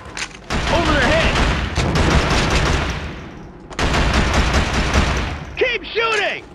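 Dense, loud sustained gunfire in the PS2 shooter Killzone during a bunker assault, continuous bursts with a short lull midway, with shouted voices breaking through near the end.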